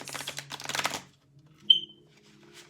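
Tarot oracle cards get a quick riffle shuffle, a short burst of crisp flicking and slapping in the first second, followed by near silence with a faint tap and a thin tone.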